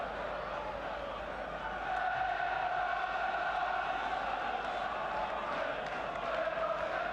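A football stadium crowd at Villa Park in the West Midlands, a broad, steady roar of many voices at a distance, swelling slightly partway through and staying continuous.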